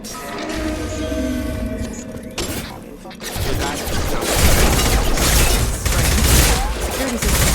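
Loud, dense bursts of gunfire rattle through combat in Mass Effect 2, with sustained volleys and impacts over game sounds and a voice speaking early on.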